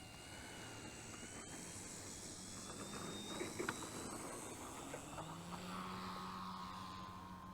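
A small radio-controlled aircraft fitted with an ExpressLRS 3.0 receiver and PWM converter board takes off outdoors, its electric motor giving a rising, steady whine that stays faint under wind and open-air background noise.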